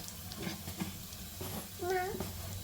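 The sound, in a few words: onion and curry leaves frying in a pan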